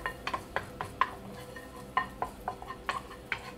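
Fresh sliced garlic is stirred in a frying pan, a soft sizzle broken by irregular scraping and clinking of a utensil against the pan, close and fairly quiet.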